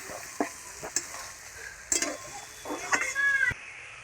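Masala cooks in oil in a pan until the oil separates, giving a soft background sizzle broken by several sharp scraping stirs and clanks, loudest around the middle, with no talking.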